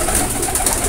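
A sukh pigeon, a kind of dove, coos up close, a short soft throaty call heard alone.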